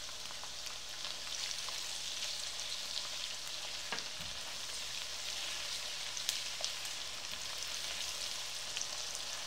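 Ginger garlic paste frying in hot oil in a pan, a steady close sizzle with occasional scrapes and taps of a spoon as it is stirred, no voices.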